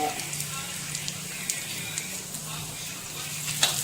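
Whole spices with cumin and asafoetida frying in hot oil for mango ginger pickle: a steady, soft sizzle and crackle close by, with a few brief spikes of spattering.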